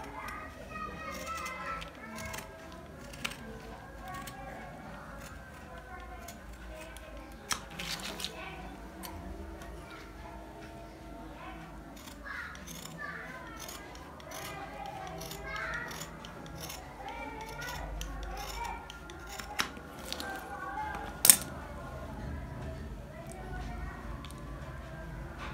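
Scissors snip through fabric while a face mask is made at home, giving soft, irregular cutting clicks close by over a low background of faint rustling and room noise.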